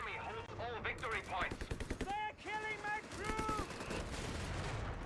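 Machine gun fire crackles in a Company of Heroes battle, rapid bursts under game unit voices and overlapping battlefield noise, fairly faint in the mix.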